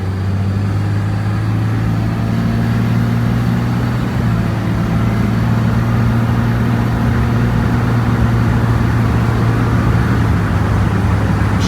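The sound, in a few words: 2006 Dodge RAM 3500 Cummins diesel truck driving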